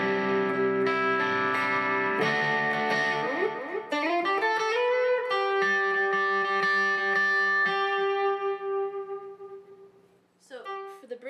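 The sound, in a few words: guitar playing sliding chord riff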